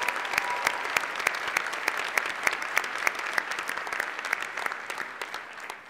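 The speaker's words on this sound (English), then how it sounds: "can we give a round of applause to our fantastic trustee scholars?" Audience applause for trustee scholars at a college scholars day event, a steady wash of clapping from a moderate-sized crowd with distinct sharper claps popping out, sustained throughout at even loudness.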